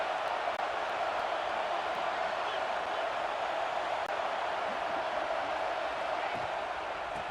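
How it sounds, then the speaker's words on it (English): Steady crowd roar fills a college football stadium during a Michigan at Florida game, a constant dense wash of distant voices with no breaks. "This crowd ready to make its presence known."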